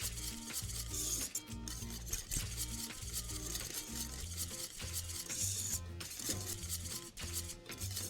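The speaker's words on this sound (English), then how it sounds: "Whisk all of this up." A whisk beats creamy cheesy polenta with butter in a pot, making quick rhythmic scraping and sloshing strokes up close over a soft steady musical backdrop.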